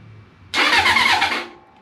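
A 1980 Honda CB750K motorcycle with old gas and leaking carburetors cranks and fires up with a loud, close burst, running roughly for about a second before dropping away.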